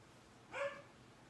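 A single short dog bark or yip from a pet dog named Daisy waiting to be let back inside, heard faintly and at a distance against a quiet indoor background.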